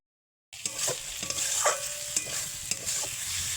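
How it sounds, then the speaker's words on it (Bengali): Soya chunks and potatoes sauté with masala in a pan, a continuous close sizzle with repeated scraping strokes of a stirring utensil. It starts abruptly after a moment of silence and has no speech. "এখানে দেখো সয়াবিন আলু দিয়ে মশলাটা দিয়ে কষিয়ে নেওয়া হচ্ছে"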